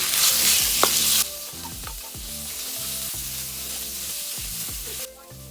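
Minced pork and garlic sizzle loudly in hot vegetable oil for a stir-fried glass noodle dish, with a bright hiss that drops a little after a second as the meat goes in, then steady frying broken by clanks of stirring.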